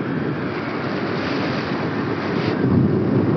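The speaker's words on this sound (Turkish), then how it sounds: "Manyak bir rüzgar var ya yerde. Deli gibi esiyor." Strong wind roars over the microphone during a paraglider flight from a 1000 m launch at around 75 km/h airspeed, a loud, continuous rushing rumble that swells slightly near the end, with no voices.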